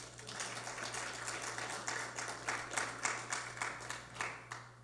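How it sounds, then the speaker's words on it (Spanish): A church congregation claps in a steady, rhythmic beat. The sound is faint and distant over a low electrical hum. "Démosle un aplauso al Señor"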